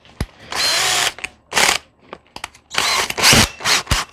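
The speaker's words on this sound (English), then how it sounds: "Does anybody else hate drilling holes into stuff because it's like kind of permanent?" A power drill bores a hole for a flush mount rod holder in a Pelican Catch 100 kayak, with short whirring bursts that start and stop repeatedly and brief clicks and knocks between them.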